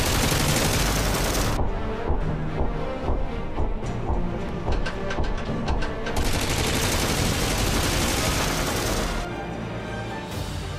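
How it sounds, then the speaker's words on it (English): A 12.7mm heavy machine gun mounted on a T-90 Bhishma tank firing rapid continuous bursts, loud and dense, with a brief pause midway before the fire resumes. "The gun belts out 800 bullets per minute."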